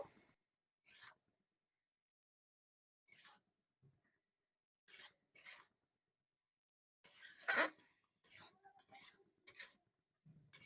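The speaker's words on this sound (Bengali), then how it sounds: "সবজিগুলো মশলার সাথে খুব ভালোভাবে মিক্স করে নেবো" Cauliflower stems with black mustard, dried chili and onion paste are stirred in a pan, producing quiet, intermittent scraping strokes in short bursts separated by silence, with a denser cluster of scrapes near the end.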